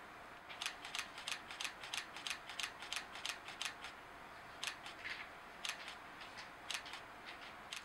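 Rapid bursts of camera shutter clicks fired in quick succession during high-speed continuous shooting in portrait orientation, crisp and close, with short pauses between bursts.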